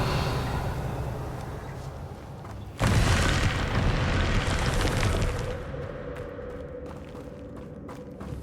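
A Confringo blasting curse in Hogwarts Legacy erupts in a loud, sudden booming explosion over a low background rumble, the roar sustaining for a couple of seconds before gradually fading away.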